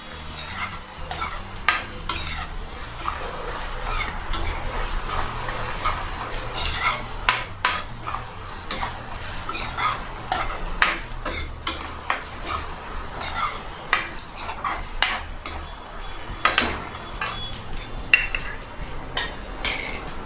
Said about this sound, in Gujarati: આને બરાબર મિક્સ કરી લઈશું।